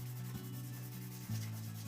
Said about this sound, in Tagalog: Ngayon, linisin natin ito gamit ang wire brush at liha.